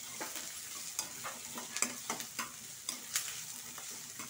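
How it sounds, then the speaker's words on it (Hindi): Chopped vegetables for rava idli frying in a pan, a steady soft sizzle broken by regular light scrapes and clinks of a spatula as they are stirred. "ईग चेन्नागि फ्राई माड्कोण"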